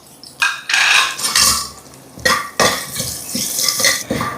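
Green chilli pieces and sliced garlic are sautéed in a pan: a spoon scrapes and stirs loudly against the metal in several bursts, with a faint sizzle underneath.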